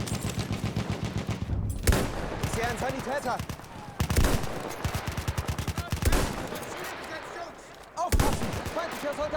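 Scout rifle firing in the game Battlefield 1: four sharp, loud shots spaced about two seconds apart, with someone talking throughout.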